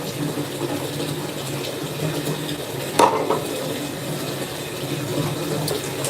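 Water draining out of a household sink, a steady running and gurgling wash with one sharp clink partway through, close and fairly loud, no talking.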